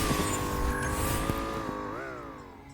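A vehicle drives in the Free Fire video game, its steady engine drone holding a constant pitch, then briefly rising before fading away, with no talk over it.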